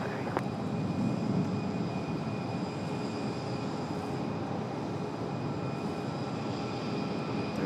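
An arriving airliner roars steadily at Raleigh Durham International Airport, a dense, even engine rumble with a thin whine on top, loud and unbroken throughout.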